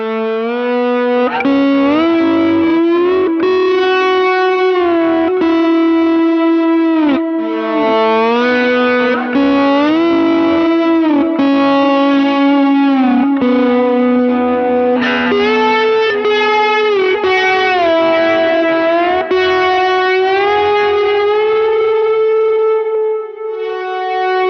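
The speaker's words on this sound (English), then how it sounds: "I'd kick it on to a light reverb, light delay setting, and that would sound like this." A guitar through a light reverb and light delay setting plays a continuous sustained melodic line, loud and up front, with notes trailing into echoing tails and no talking.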